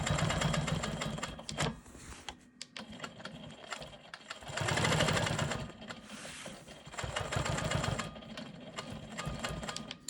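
A sewing machine quilts straight lines across a rolling stone quilt block, running in several bursts of steady mechanical whirring with short pauses between them. It sounds close and loud, with no talking.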